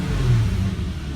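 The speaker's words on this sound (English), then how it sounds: "The engine's still cold, so you know, it takes a little bit for it to completely warm up." A cold Volkswagen Golf Mk4 R32 engine idles steadily with a low, continuous rumble, close by and fairly loud, with no voices.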